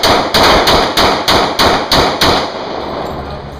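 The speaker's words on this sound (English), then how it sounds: "and then Tiffany is going to shoot that there rifle" A rifle fires a rapid, evenly spaced string of about seven loud, sharp reports, each with a short ringing tail, and then the sound falls to a steady background.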